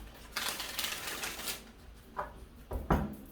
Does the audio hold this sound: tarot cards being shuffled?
yes